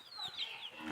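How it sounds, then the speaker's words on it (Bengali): Chickens at a rural homestead clucking close by, a brief, faint burst of high wavering calls. "এদিকে আবার মুরগিগুলো কোন দিকে ঢুকছে দেখছেন?"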